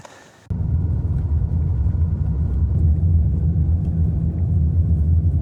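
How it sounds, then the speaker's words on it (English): Car driving along Loch Nafoui in Ireland, heard from inside as a steady low engine and road rumble that begins abruptly and then holds loud and even. "So I'm driving along Loch Nafoui here now"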